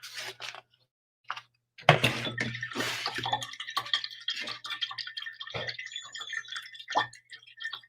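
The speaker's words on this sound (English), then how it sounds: "Rinse out my brush." Paint brush being rinsed in a water cup, quiet close-up swishing and clinking bursts with short pauses between them, faint and intermittent.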